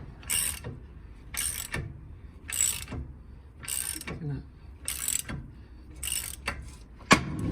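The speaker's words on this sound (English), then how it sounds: "I'm going to tighten this up with a standard wrench first, as much as I can." A bolt on a Mercedes 107 SL is tightened with a standard wrench during stuck brake disc and shock absorber removal. Close metallic ratcheting bursts repeat roughly every half second, with a sharper clank near the end.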